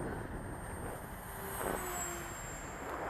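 A model airplane dives into a fast pass at half throttle, its engine tone rising and swelling near the middle before easing off, under steady gusty wind noise.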